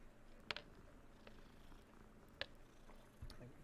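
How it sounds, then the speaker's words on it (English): A cat in a wizard video game purrs softly and steadily as it is petted, a low continuous rumble with a few faint clicks. "We're gonna pet this cat."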